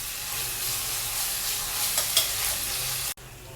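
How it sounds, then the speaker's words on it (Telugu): Garlic ginger paste frying with onions in a pan for stuffed brinjal curry, a steady close sizzle with faint stirring scrapes, continuous for about three seconds before cutting off abruptly. "ఈ పేస్ట్ అంతా కూడా పచ్చివాసన పోయేంత వరకు ఫ్రై చేసుకోవాలండి"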